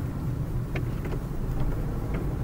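A car drives down a city street in Stavropol, a steady low engine and road rumble heard from inside with faint ticking, no talking.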